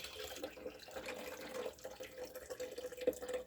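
A faint, steady trickle of kava drink pouring, soft and continuous, with a few small drips and splashes.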